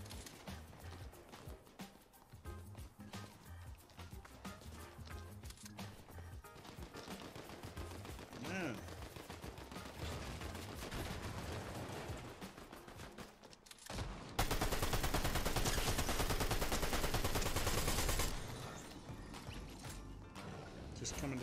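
Fortnite SMG fire crackles in busy bursts through a dense game mix with music and effects, peaking in a loud, sustained stretch of rapid shots near the end.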